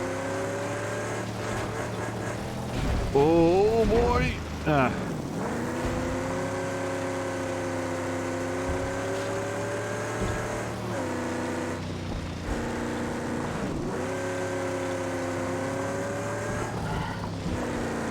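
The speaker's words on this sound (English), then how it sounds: "we get to actually drive this car with its brand new V8 engine" A brand-new V8 car engine in the Mad Max video game drones steadily and loudly, revving with rising and falling pitch sweeps; a voice exclaims briefly over it.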